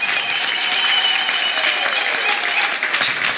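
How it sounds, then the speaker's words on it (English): Church congregation clapping hands for Jesus, a dense, continuous, fairly loud round of applause filling the room with no pauses. "Let us clap hands for Jesus,"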